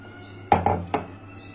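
Three quick clinks of a utensil striking a bowl while cake ingredients are being mixed with eggs, close and distinct against a quiet kitchen background.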